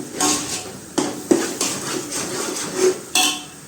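Chavanu, gathiya crumbs and other snack ingredients being stirred together in a pan, with a series of scraping and clinking strokes of a spoon against the metal, fairly close and steady, with no talking.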